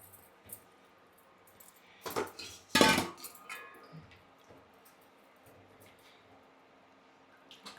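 Food stirred in a pot during an Onam home cooking session, a few sharp metal clinks and scrapes of a spoon against the pot around the middle, then quiet with faint scattered taps.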